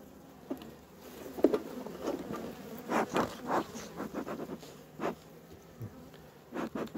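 Honeybees buzzing around an open hive, a quiet insect drone broken by sharp bursts of buzzing as bees fly close past, plus scattered light clicks and rustles of handling.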